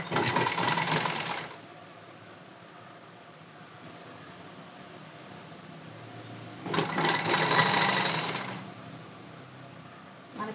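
A sewing machine stitches piping onto a square-neck blouse during a tailoring lesson, running in two close bursts of steady whirring with a quiet pause between them.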